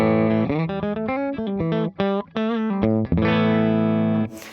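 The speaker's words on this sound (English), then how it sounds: "So if I want a little compression, I'll just take my blend and roll it up a little bit." Electric guitar for country playing through a Wampler Ego compressor with its blend turned up slightly, a snappy, even phrase of bent and picked notes, close and alone with a sustained final note.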